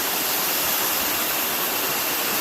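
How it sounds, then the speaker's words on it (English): A waterfall on a Costa Rica hike pours steadily into a pool just below, its broad, continuous roar of rushing water close and loud with no break or talk over it. "that waterfall behind us that goes up over those trees."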